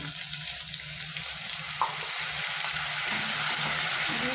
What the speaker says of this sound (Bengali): মশলা দিয়ে রাখা জলটা দিয়ে দেবো